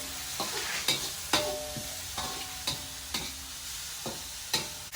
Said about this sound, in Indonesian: Sisa dari menggoreng bumbu bisa digunakan untuk menggoreng urang geremut.